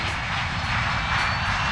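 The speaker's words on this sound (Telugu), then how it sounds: "ఫ్లైట్ బయలుదేరింది." An airplane engine roars as the flight takes off, a loud, steady, close broadband rumble and whine filling the whole clip with no voices.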